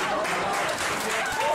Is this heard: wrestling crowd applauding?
yes